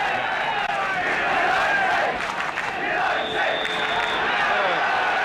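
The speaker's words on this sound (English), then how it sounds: "The crowd, not a great one, but all set for the kick-off" A football crowd murmurs and chants at White Hart Lane before kick-off in a 1973-74 Spurs v West Ham match, a constant distant roar of many voices with faint shouts rising within it.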